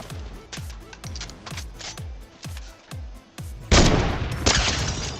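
Gunfire in the Fortnite Chapter 2 Remix match, a run of sharp evenly spaced shots with booming tails, then a denser louder burst near the end.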